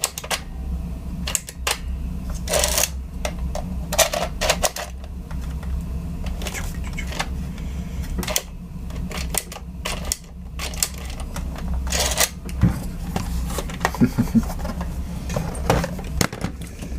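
Plastic clicks and rattles come from a Nerf Sledgefire blaster as 3D printed shells are loaded, a run of close, irregular mechanical snaps and clacks over a steady low hum.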